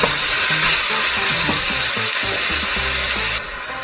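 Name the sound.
ground beef frying with salt in a pan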